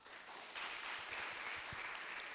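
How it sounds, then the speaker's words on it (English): Audience applause at a Teach2Give graduation ceremony, a soft, steady patter of many hands clapping, fairly distant and faint, lasting a couple of seconds. "Please clap for him, guys."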